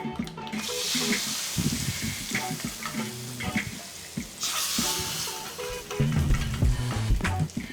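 Hot oil tempering sizzles and crackles in bursts as it is stirred into brinjal chutney, with clinks of a spoon against a pan close by.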